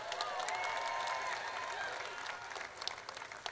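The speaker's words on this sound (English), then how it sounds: "Give them a round of applause" Steady crowd applause at an outdoor championship parade for a women's basketball team, a continuous wash of many hands clapping at moderate distance that thins slightly toward the end.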